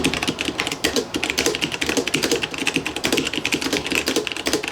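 Continuous fast typing on a wireless full-size mechanical keyboard fitted with tactile Gateron brown switches, giving dense, close, even key clatter with no talking over it.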